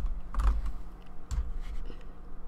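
Quiet typing on a computer keyboard, a few scattered soft keystrokes and clacks at close range.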